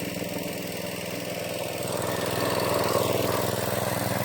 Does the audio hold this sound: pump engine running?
yes